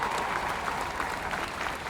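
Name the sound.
round of applause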